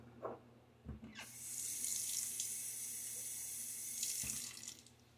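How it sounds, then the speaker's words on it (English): Water runs from a tap into a sink for a shaving lather, with a short clunk as the faucet opens, a steady hiss of flow for about three seconds, then a clunk as it shuts off. "And now it's time to start adding a little bit of water."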